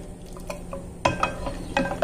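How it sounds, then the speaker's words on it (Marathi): Rice kheer simmering in a pot is stirred with a spoon, giving soft scraping strokes and light metallic clinks against the pot in a loose rhythm, close and fairly quiet over a low bubbling hum. "त्यामुळे सतत अशा पद्धतीने आपण ढवळत राहणार आहोत."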